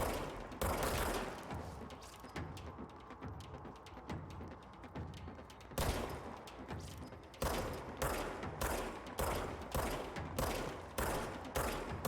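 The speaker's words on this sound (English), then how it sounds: "Can I not aim and shoot?" Gunshots fire repeatedly in the video game Control, rapid bursts at first and then a run of evenly spaced loud single shots in the second half, each one sharp and close.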